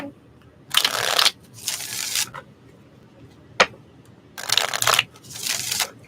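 Oracle cards shuffled by hand in four riffling bursts of about half a second each, with a single sharp tap between them, close and fairly loud against a quiet room.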